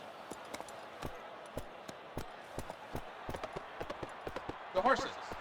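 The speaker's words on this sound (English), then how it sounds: "The horses are on the track." Galloping horses on a race track in the video game Gallop Racer 2003, a steady run of soft rhythmic hoofbeats under low crowd ambience, with a brief bright accent near the end.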